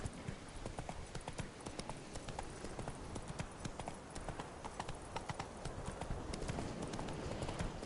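Horse galloping in the video game The Witcher 3, rapid rhythmic hoofbeats clopping steadily throughout at close range, with a dense background bed underneath.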